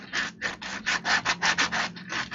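Sandpaper rubbing on wooden penguin figures, a close run of about a dozen quick back-and-forth strokes in a steady rhythm, with no talking.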